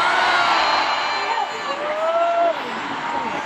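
A packed concert crowd at a show in the Philippines cheers loudly and continuously, with whoops and shouted voices rising over a dense roar of fans.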